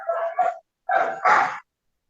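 A dog barks up close in about four short, sharp yips grouped in two pairs, with a brief pause between them and silence afterward.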